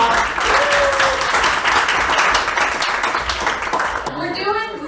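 Audience applause fills a comedy club during a panel show, steady dense clapping throughout with a voice speaking over it, then fading into talk near the end.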